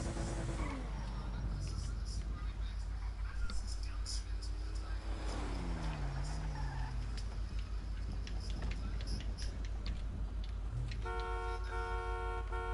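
A car horn honks in a series of short blasts near the end, heard from inside the vehicle over engine and road rumble, with people talking throughout.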